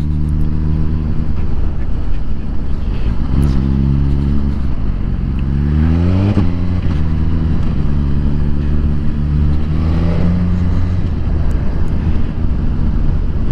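A Suzuki GSX-R1000R motorcycle engine drones loud and steady on a ride around Hemsby, pitch climbing and falling through gear changes over constant wind rush, with no talk.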